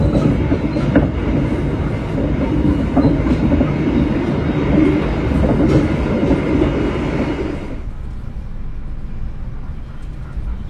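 Inside the Sembrani executive passenger train in Indonesia near Lamongan station, a loud rail rumble with clickety-clack of the wheels fills the car, then drops abruptly to a quieter hum about three-quarters of the way through.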